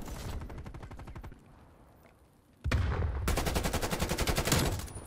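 Rapid automatic weapon fire in Call of Duty: Black Ops Cold War, a dense burst of shots, a brief quiet lull, then a louder sustained volley of fast, evenly spaced rounds, with no talking.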